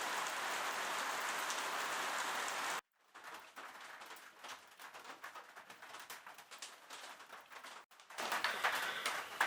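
Rain tapping on a roof during a day of crankbait carving, a steady dense patter of drops that cuts out briefly, returns softer and patchier, then swells again, with faint bird cooing mixed in.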